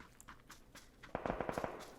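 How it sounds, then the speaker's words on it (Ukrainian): Distant gunfire in the video game PUBG, a rapid burst of about eight sharp cracks off to one side, preceded by fainter scattered shots and soft movement noise, with no talk. "Знизу десь справа луплять."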